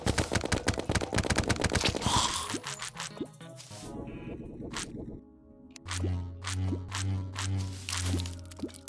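A ray gun firing in Terraria gives a rapid stream of short electronic zaps in a fast rhythm, then a few scattered squelchy blasts over busy game effects and a low tonal hum.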